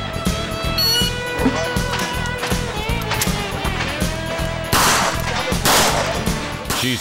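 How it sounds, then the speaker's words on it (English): A Smith & Wesson Performance Center 627 revolver fires eight rounds of .38 Super in quick succession at a revolver match, sharp loud reports cracking over steady outdoor range noise. "She's fast with her Performance Center 627 with 8 rounds of 38 Super."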